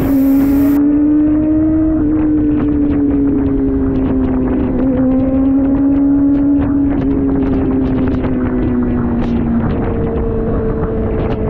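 A Kawasaki ZX4RR motorcycle engine screams loud and close, holding a high whining pitch that steps up and down through several gear shifts, with wind buffeting over it.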